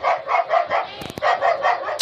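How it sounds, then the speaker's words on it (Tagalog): A pet dog barking repeatedly at a cat, loud rapid barks close by in a quick steady rhythm, broken by a brief clatter midway before the barking resumes. "kasi tahol yung aso namin"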